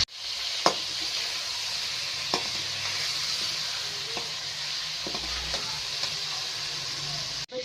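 Chicken pieces fry in oil for a chatkhara biryani, giving a steady close sizzle throughout with occasional sharp pops and stirring clinks, no talking over it.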